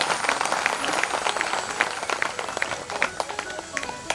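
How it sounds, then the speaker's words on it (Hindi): Audience clapping at a Hindu religious discourse on the Bhagavad Gita, a dense, lively burst of many hands applauding, loud and sustained. "ताली बजा दीजिए।"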